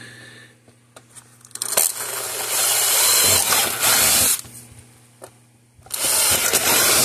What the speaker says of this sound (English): I don't have my regular drill with me, so I got my impact driver with,